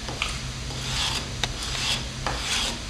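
A part is sanded by hand with 80-grit sandpaper, rotated with each pull. It makes repeated rasping strokes in an uneven rhythm, close and fairly quiet with no speech.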